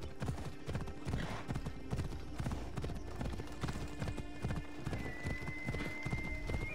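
A horse trots in the video game Assassin's Creed Odyssey, its hooves clip-clopping in a steady, even rhythm with a brief whinny among the hoofbeats and a voice talking faintly underneath.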